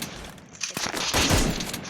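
Gunfire from an AK-47 in a shooting video game, a quick burst of a few sharp shots landing a headshot, loud and close with no talking.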